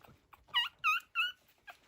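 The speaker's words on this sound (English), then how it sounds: "likes to bark in his sleep and scream. Hear him?" A nine-day-old Westie puppy gives three high, close whimpering squeals in quick succession, then a fainter short one, with near silence between.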